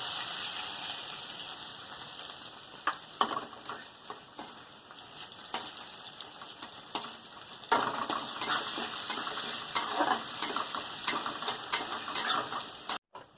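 Onion frying in oil with bay leaf, panch phoron and mustard seeds gives a steady close sizzle broken by repeated scraping stirs and a louder stretch of crackling partway through, with no talk.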